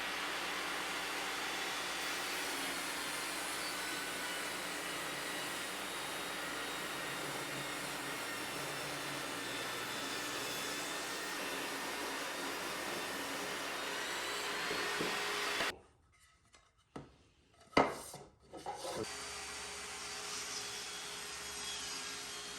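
A Skil TS6307-00 budget table saw rips full depth through pressure-treated 4x4 lumber with a loud, steady whining roar for about fifteen seconds, then cuts out abruptly, followed by a few sharp clunks and the motor running again.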